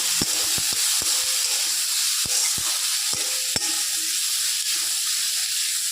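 Beans with coriander powder and Kashmiri chilli powder hiss and sizzle steadily in a pan, while a spatula stirs them with sharp intermittent clacks against the metal.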